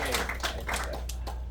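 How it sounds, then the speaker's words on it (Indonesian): Seminar audience gives a short burst of hand clapping, a few uneven claps over a low steady hum in the room, fairly faint and brief. "Jadi tepuk tangan sekali lagi dong."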